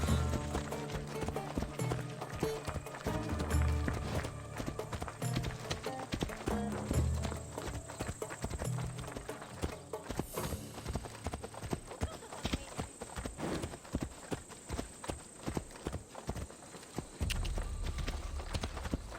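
Horse galloping in Assassin's Creed Odyssey, a rapid continuous clatter of hoofbeats with occasional snorts, loud and close under game sounds and a voice.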